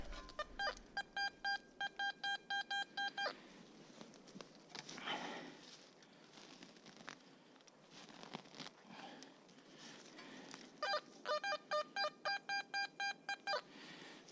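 A metal detector on Sobieszewo Island sends out two bursts of quick, evenly spaced electronic beeps, one at the start and one at the end, with rustling and digging sounds in between.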